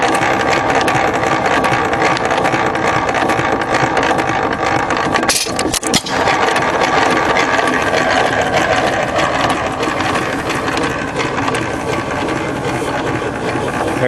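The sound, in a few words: 3 HP Hercules engine running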